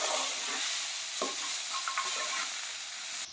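Vegetables with salt, turmeric and coriander powder stirred in a sizzling pan for vegetable upma, a steady hiss of frying under a few soft scrapes of the spoon, close up, with no voices.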